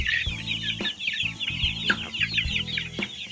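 Native Thai chickens cluck repeatedly and close by, with busy chirping and cackling from a flock layered throughout, no talking.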